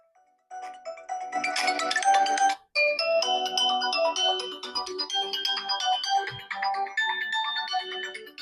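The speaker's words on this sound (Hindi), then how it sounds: "ये हमारे पास इसकी रिंगटोन आ गई।" A bright melodic Honor X5c Plus smartphone ringtone plays loudly through its small speaker, a busy electronic tune with a brief gap near the start.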